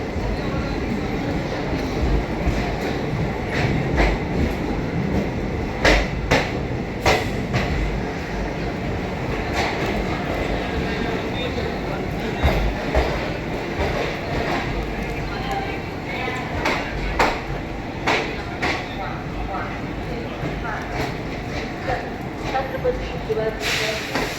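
A train runs near Gwalior Junction, producing a continuous broadband rumble with scattered clanks and rattles of the rolling cars, heard close, and faint indistinct voices underneath.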